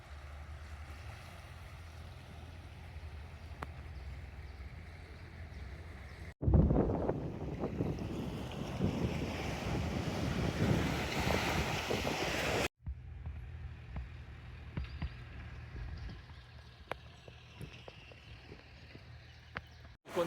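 Surf and wind at Klong Jak beach on Koh Lanta, Thailand: steady wash of waves with gusty wind buffeting the microphone, loudest in a roaring middle stretch, then settling back to a softer continuous rush.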